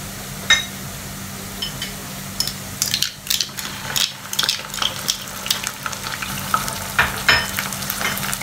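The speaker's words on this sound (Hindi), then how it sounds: "अब ये प्याज हो रहा है गोल्डन ब्राउन। अब इसमें डाल देना जिंजर एंड गार्लिक पेस्ट।" Onions that have turned golden brown fry with ginger garlic paste in a pan for a boneless masala handi. A constant close sizzle runs under frequent spoon scrapes and metallic clinks.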